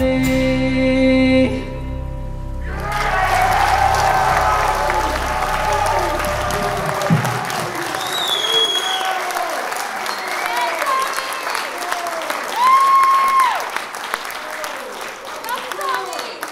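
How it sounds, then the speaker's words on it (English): A concert crowd at a college electronic music performance claps and cheers after the music cuts out, sustained applause with scattered whoops and voices over it. "A round of applause for you all for being with us tonight."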